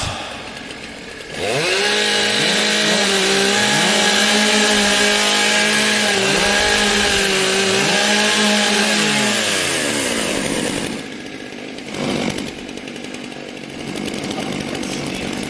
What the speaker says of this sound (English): Warm up your saws.